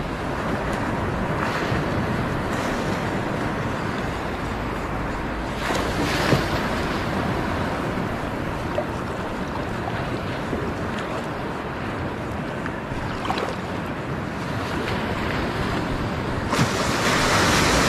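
Sea waves wash steadily at a coastal fishing spot under an overcast sky, with a constant broadband surf roar and gusts of wind across the microphone, and no voices.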